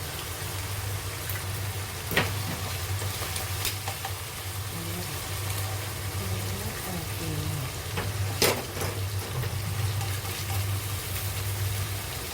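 Three eggs frying in a pan with pork, giving a steady soft sizzle and crackle throughout, with occasional sharper pops.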